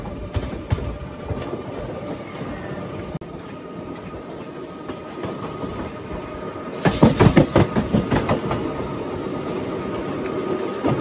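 Train hauled by an Itarsi-shed locomotive running along, a steady broadband rumble building into loud, rhythmic clickety-clack of wheels over rail joints, heard up close from on board.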